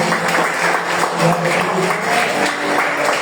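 Congregation at a midweek pastoral church service applauding, a dense, even roar of many hands clapping together, loud and steady without a break.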